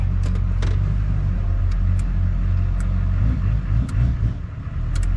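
Tuned LB7 Duramax diesel pickup accelerating on its first drive, a steady loud low rumble of the engine and road noise from inside the cab.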